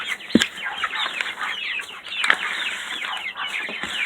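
Chickens cluck and chatter close by, with a few brief bursts of wing flapping, in a busy backyard flock at feeding time.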